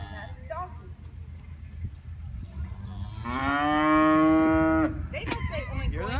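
Cattle on a small family farm give a long, loud moo in the middle, with voices of adults and children chatting before and after it.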